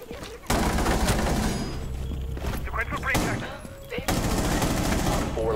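Rapid, loud automatic gunfire and bursts of shooting in the Rainbow Six Siege video game, nearly continuous with brief pauses, while players talk over the action.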